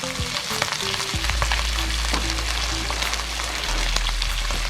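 A rested ribeye steak being reverse-seared in a cast iron pan, pressed down as it cooks, giving a loud, continuous close sizzle with crackling pops throughout, and no talk.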